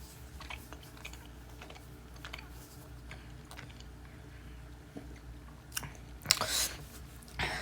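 A person chewing food close to the microphone, with faint soft crunching and smacking bites scattered over a quiet room background and a louder burst of crunching near the end.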